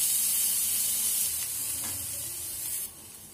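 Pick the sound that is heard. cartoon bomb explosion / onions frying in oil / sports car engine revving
onions frying in oil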